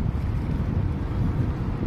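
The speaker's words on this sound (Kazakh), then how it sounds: "Жел болып тұр қатты" Strong wind buffets the microphone in a steady, loud low roar, with no voices.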